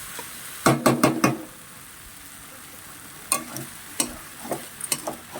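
Vegetables with Malabar spinach frying in a pan, stirred in two bursts of scraping, knocking strokes over a faint continuous sizzle, close up and without talk.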